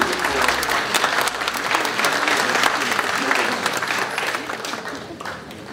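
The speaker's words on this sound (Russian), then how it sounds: "Приглашенные на церемонию встретили их стоя под аплодисменты." Audience at a governor's inauguration ceremony applauding steadily as guests stand, a dense, loud wash of many hands clapping that holds across the whole stretch.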